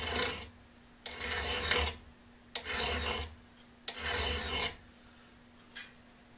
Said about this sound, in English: So I'm going to take this little diamond file.